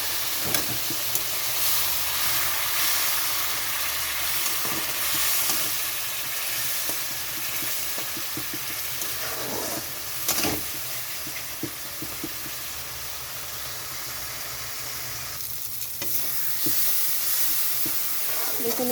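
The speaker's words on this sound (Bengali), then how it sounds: "এখানে একটু জল দিয়ে দিচ্ছি খুব অল্প পরিমাণে মশলাটা কষানোর জন্য।" Spice paste for a pointed gourd and fish curry sizzles steadily in a pan with a little water added, a continuous close hiss broken by occasional scrapes of stirring.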